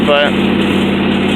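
A 1967 Ford Thunderbird engine runs at fast idle in an apartment parking lot, a steady continuous mid-pitched drone close by, with a brief spoken word over it.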